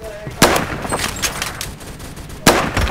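Sharp gunshots ring out in the Roblox shooter Phantom Forces, two loud cracks about two seconds apart with smaller scattered shots and clatter between, a voice briefly heard in the background.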